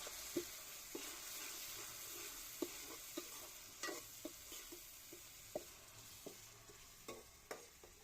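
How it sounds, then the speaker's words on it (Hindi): Oil sizzles softly and steadily as chopped tomatoes fry in a pan, broken by a series of light scraping and stirring taps from a utensil. "अच्छी तरह से भूनेंगे टमाटर को भी"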